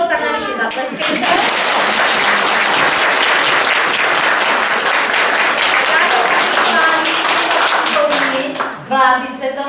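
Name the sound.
audience applause after kindergarten performance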